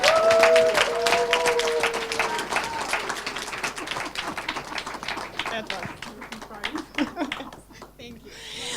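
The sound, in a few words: audience applause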